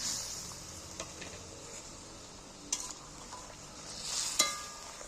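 Fried beetroot pieces being stirred into a spicy sauce in a pan: a soft, low sizzle runs throughout, broken by a few sharp utensil clinks and scrapes, with no talking.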